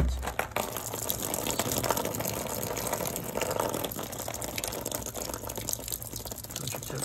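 Water leaking down from an irrigation valve, a steady close rush and splatter with faint dripping, continuous throughout.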